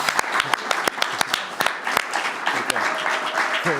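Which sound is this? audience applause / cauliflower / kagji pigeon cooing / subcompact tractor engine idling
audience applause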